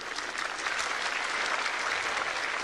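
Steady, dense crowd applause fills a stadium at the 1979 Australian Open men's tennis final, a continuous wash of clapping without a break.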